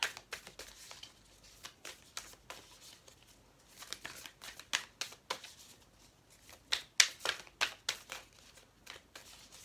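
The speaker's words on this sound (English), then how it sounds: "I didn't shuffle these enough." Tarot cards being shuffled by hand: rapid, crisp riffling and flicking bursts repeat irregularly throughout, close and fairly quiet, with no talking.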